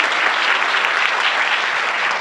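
Audience at a public address applauding, a dense, steady burst of clapping from many hands that fills the whole stretch without any voices over it.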